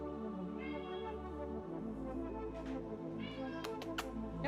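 A pet cat named Woodhouse gives a soft, faint meow close by, a brief drawn-out call over a steady low background hum.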